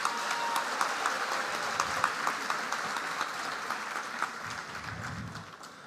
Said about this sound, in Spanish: pido un fuerte aplauso para todas las mujeres cafeteras del Tolima y de Colombia